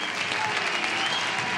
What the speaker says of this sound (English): You really should stop applauding because you give me a big head